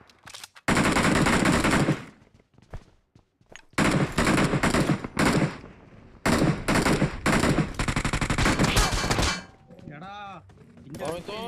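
Gunfire in a PUBG-style battle royale video game: repeated loud bursts of automatic fire, separated by short gaps, with metallic clangs and ringing tones near the end.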